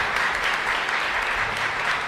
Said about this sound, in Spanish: Fuerte aplauso para el Señor.